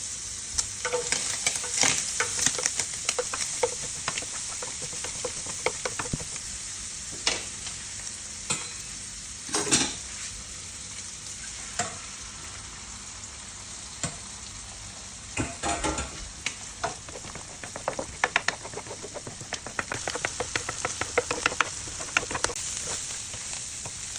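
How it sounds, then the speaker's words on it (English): Eggs being scrambled and fried in a hot pan beside fried rice ingredients: steady close sizzling with repeated scraping and stirring strokes of a utensil against the pan, no talking. "Now we're going to scrape that to a side and put the eggs in and scramble them."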